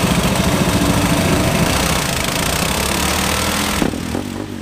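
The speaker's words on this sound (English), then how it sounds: "Listen to that mono rumble." A Supermono single-cylinder race motorcycle engine rumbles loudly and steadily at close range in a road-racing paddock after a roller start, with a brief change in tone near the end.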